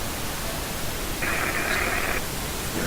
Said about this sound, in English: We're going to drop the pink noise now